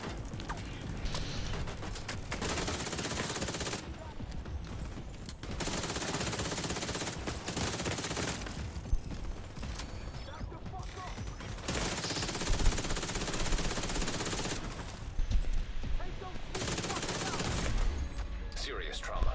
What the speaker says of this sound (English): Shoot him in the toes!